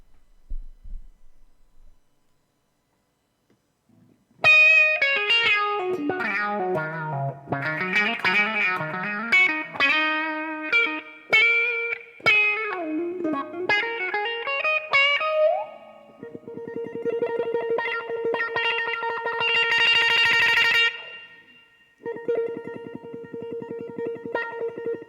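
Electric guitar with light reverb and crunch, played through a DOD Envelope Filter 440 pedal, gives loud, quacky, sweeping wah-like notes and chords. A short quiet gap comes first, then continuous phrases ending in a sustained wobbling chord.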